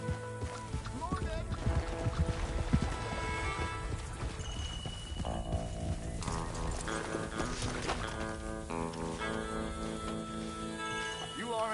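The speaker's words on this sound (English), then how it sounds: "but I can ride a horse" Horse hooves clip-clop in Red Dead Redemption 2 under layered game music and sound effects, with a voice speaking intermittently.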